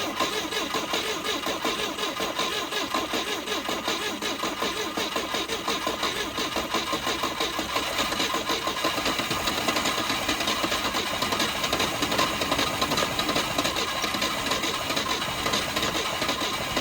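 The engine of a 1971 Volvo 142 car runs at idle with a loud, steady, close rumble that holds even and continuous throughout, with no talk.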